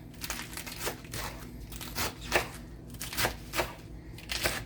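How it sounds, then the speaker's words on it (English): Iceberg lettuce being roughly chopped with a knife on a board, a series of crisp crunching cuts at an uneven beat, close and moderately loud. "So I'm just going to give it a rough chop."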